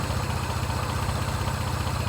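A car engine idles steadily just after starting, with a close, continuous low rumble and an even pulsing throb and no voices.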